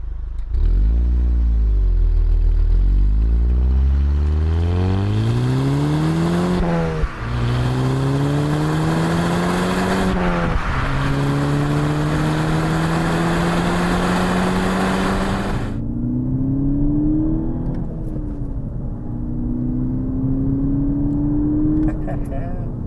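A 2013 Volkswagen Golf GTI's turbocharged engine pulls hard, climbing through several gears in rising sweeps with brief dips at each shift, loud and close from inside the car, then settling into a steadier cruise.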